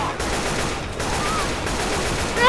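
Rapid automatic gunfire in Left 4 Dead 2, a steady burst of close shots running throughout with game effects, brief and loud.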